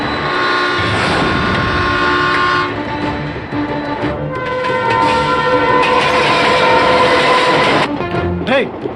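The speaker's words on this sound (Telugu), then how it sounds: "ఇదే ట్రాక్ లో ఎదురుగా వేరే రైలు బండి వస్తుందిరా." A train rolls loudly along the track nearby, with a sustained horn blaring over the rumble and wheel noise, and the horn sounds again in bursts toward the end.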